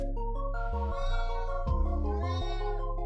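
A house cat meows several times in drawn-out, wavering cries close by, over a steady background of layered tonal music.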